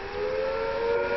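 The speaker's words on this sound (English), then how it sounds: "If an attack is expected, the sirens will sound a rising and falling note like this." An air raid attack warning siren from the game Fallout: London holds one loud, steady wailing tone over a brief stretch, with no voices.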